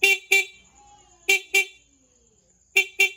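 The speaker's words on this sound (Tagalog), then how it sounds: "tapos ito naka-off, stock horn" A Honda XRM110 motorcycle's stock horn honks three times in quick double beeps, loud and close, with brief silences between each pair.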